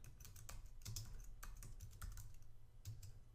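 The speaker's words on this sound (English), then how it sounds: "Just type netstat" Fingers tap out a netstat command on a computer keyboard in a Linux terminal: soft, quick keystrokes close by and quiet, in uneven bursts with brief pauses.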